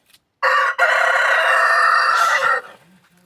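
A rooster crows loudly and close by, one long drawn-out call lasting about two seconds, followed by quiet.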